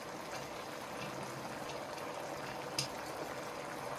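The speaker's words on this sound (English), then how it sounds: "I can hear the water boiling" Water bubbles at a steady rolling boil in an electric wok, a continuous soft gurgling with an occasional small clink, close by and fairly quiet.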